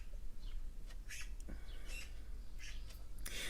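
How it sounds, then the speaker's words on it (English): Garden birds squawk at a bird bath in a string of short, scattered calls, some near and some farther off, over a quiet outdoor background with no talking. "I just spotted the birds going down to the"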